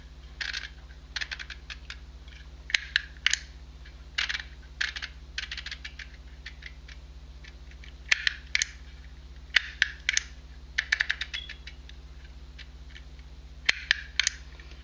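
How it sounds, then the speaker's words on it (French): Click Click label embossing machine, its handle pressed hard into the tape, making sharp, fairly close clicks and snaps in short irregular bursts over a steady low hum, with no voices. "je peux commencer maintenant à embosser en appuyant bien fort sur la poignée"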